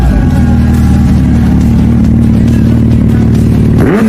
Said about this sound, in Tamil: டாப் 3 சூப்பர் பைக்ஸோட எக்ஸாஸ்ட் சவுண்டு தாங்க இன்னைக்கு கேட்க போகிறோம்